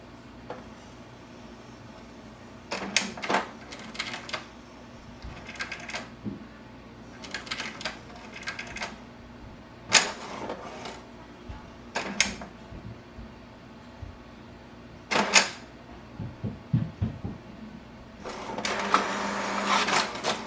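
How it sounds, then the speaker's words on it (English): An HP DeskJet 2900 inkjet printer runs its cartridge cleaning and printing cycle: short bursts of mechanical whirring and carriage clatter separated by quiet gaps, with a longer run near the end. "Cleaning is done and it is printing the quality report."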